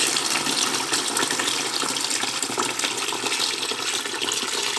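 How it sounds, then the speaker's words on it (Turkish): Water rushes into a combi boiler radiator being cleaned, a steady close gushing hiss of flowing liquid that holds nearly constant throughout with no speech. "Sesi duyuyorsunuzdur. Oradan su giriyor."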